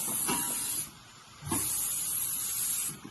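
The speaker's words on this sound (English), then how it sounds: "And you're going to silicone spray those joints." Silicone spray hisses onto the joints of a hurricane accordion shutter in two close, steady bursts separated by a short pause.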